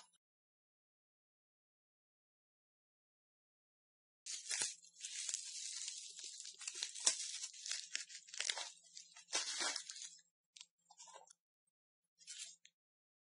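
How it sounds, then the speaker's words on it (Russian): Crinkling and tearing of packaging as an AliExpress parcel holding a wristwatch is opened, close and crisp bursts of rustling after a silent start, ending in a few short crackles. "Давайте сразу перейдем к распаковке."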